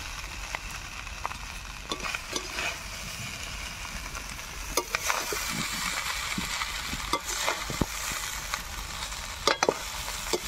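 Rice and vegetables are stir-fried in a pan, cooked the village way: a continuous sizzle broken by repeated sharp scrapes and clacks of the spatula against the pan.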